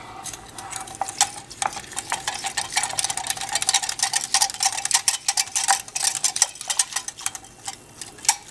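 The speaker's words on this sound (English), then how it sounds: "I'm going to take my yeast and add it into my milk. And then I'm going to whisk all of this together" Sugar, yeast and milk whisked together in a bowl for pandesal dough, a steady run of quick ticking and scraping strokes close by, with no talking.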